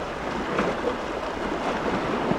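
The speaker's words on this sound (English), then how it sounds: "From the stern, the turbulent water churned by the propeller is clearly visible, forming a trailing wake behind the ship." Continuous low churning wash of water stirred by a container ship's propeller as the vessel maneuvers through sharp bends in a narrow river, steady and moderately distant with wind noise.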